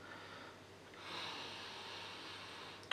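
A quiet, drawn-out sniff at a glass of blended beer, a mix of a black IPA and a pale IPA, rises after a brief swirl and holds as a soft, close breathy hiss.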